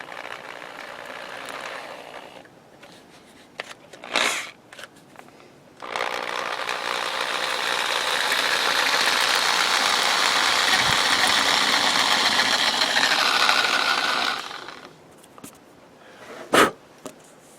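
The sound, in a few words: drill turning slowly at low speed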